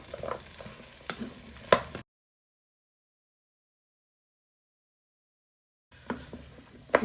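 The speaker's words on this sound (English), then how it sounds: "You want to give that a bit of a stir so it coats into all your bacon, onions and celery." Bacon, onions, celery and potatoes sizzle as they are stirred and fried in a pan for a smoked haddock chowder. Close crackling with spoon scrapes breaks off into a long silent gap, then resumes.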